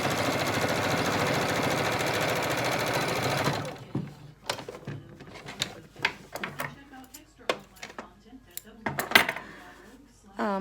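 A sewing machine stitches a fabric mask, running slowly over its bulky seams with a steady, close whirring hum for a few seconds. It then stops, followed by scattered light clicks and clatters.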